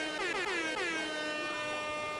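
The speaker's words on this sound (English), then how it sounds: "Oh yeah, I'm gonna give some more air horn." An air horn blasts at a pinball tournament, a loud sustained blare held steadily for about two seconds with a rich harmonic tone and a slight pitch sag at the start.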